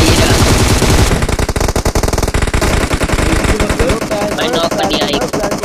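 Rapid automatic gunfire rings out in Battlegrounds Mobile India: loud, dense bursts of shots come first, then sparser shots, with voices talking underneath.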